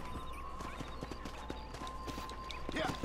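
Horse hooves clip-clopping in a steady rhythm at moderate distance in the video game Red Dead Redemption, with a faint steady hum beneath and a brief voice near the end.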